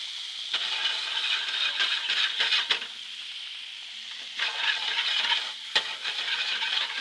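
Teriyaki turkey meatballs frying in a pan, nudged around with a spatula: a steady sizzle broken by scrapes and light clacks of the utensil against the pan, close by.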